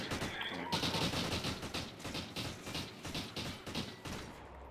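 Rapid gunfire in an online shooter video game, repeated bursts of shots in quick succession across the whole stretch, fairly faint and slightly distant.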